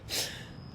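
A runner gives one short, sharp gasp for air, out of breath after running intervals, heard close and alone.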